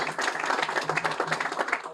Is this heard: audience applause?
yes